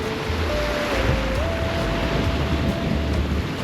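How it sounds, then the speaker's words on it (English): Strong outdoor wind buffets the microphone in a steady low rumble for a few seconds, with a faint thin tone riding above it and no talking. "Woo, windy."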